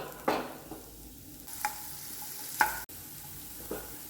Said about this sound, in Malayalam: ഒരു ചെറിയ കഷ്ണം ഇഞ്ചി നന്നായി അരിഞ്ഞെടുത്തത് കുറച്ച് വെളുത്തുള്ളി ഒന്ന് വഴറ്റിയെടുക്കാം